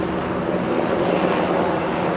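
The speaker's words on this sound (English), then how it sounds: "Sounds like a helicopter coming through." A military helicopter passes overhead near 83rd Street and I-355, its engine producing a loud, steady roaring drone throughout with no voices.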